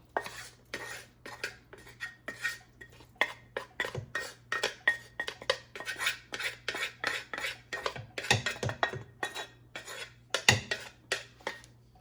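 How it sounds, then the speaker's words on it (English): Sauteed onions go into a red wine sauce in a pot for baked ziti, with a close, rhythmic run of scraping and clinking as a utensil works against the pot, no voices. "come in with our sauteed onions"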